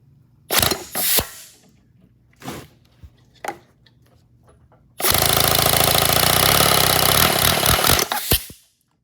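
A small 157cc inline twin air engine roars to life and runs loud and steady for a few seconds before cutting off, after a few knocks and clanks.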